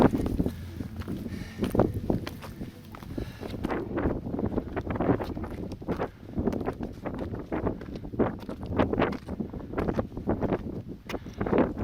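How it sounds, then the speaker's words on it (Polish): Strong wind roars without pause across a high Tatra ridge near Wołowiec, buffeting the microphone in rough, uneven gusts, with faint footsteps mixed into the steady rushing noise. "silny wiatr wieje."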